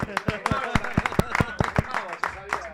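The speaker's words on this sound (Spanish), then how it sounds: "un aplauso para usted" Scattered hand claps from a small studio audience on a live streaming talk show, a dozen or so sharp, uneven claps in quick succession, fairly close, with voices talking over them throughout.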